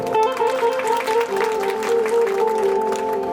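Crowd claps together at a village Ram temple gathering, a dense, loud burst of applause lasting a few seconds, with a steady tonal hum running underneath.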